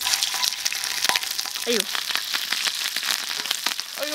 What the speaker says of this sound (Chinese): 油温热了，我们加入肉。